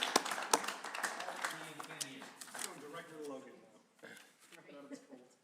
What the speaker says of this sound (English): How about a round of applause for all those that helped us with this very difficult process?